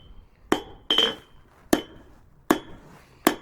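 Five sharp, ringing hammer blows on hot steel over an anvil, shaping a short two-sided taper for a forged cabinet handle, spaced unevenly about a second apart with bright metallic clinks and quiet gaps between.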